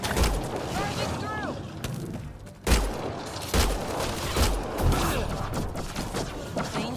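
Gunfire in the sci-fi shooter Mass Effect Andromeda, several loud weapon blasts and impacts spaced through a noisy combat scene, with voices speaking at times.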